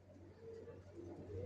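Young racing pigeons of a Johnson line, down-shape original racers, cooing softly in a loft with a steady low hum beneath, with no voices.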